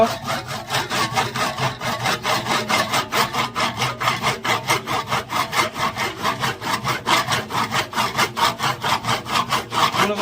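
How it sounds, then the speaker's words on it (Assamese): A lithium battery is cut open with quick, regular back-and-forth sawing strokes, loud and close, a steady rasping rhythm of about four strokes per second with no talk. "কেনেকৈ কাটি কুটি লিথিয়াম বেটাৰী বনাই মই দেখুৱাই দিম এয়া কাটা আৰম্ভ"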